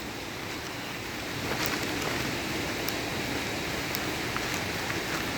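Steady, dense hiss of rain falling, continuous and fairly loud, with a few faint ticks over the wash and no voices.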